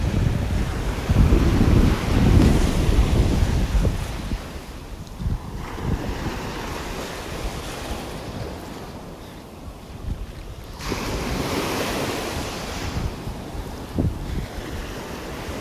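Small ocean waves wash onto a beach in North Naples, Florida, in a soft, continuous surge that swells and fades. Wind buffets the microphone throughout.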